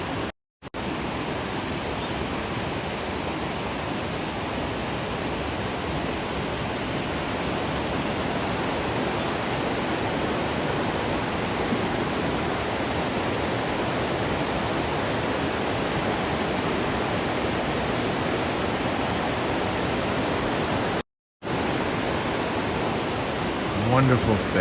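Steady, loud rush of flowing river water in a hidden Japanese mountain village, a continuous broadband roar that holds through the whole stretch with only two brief dropouts.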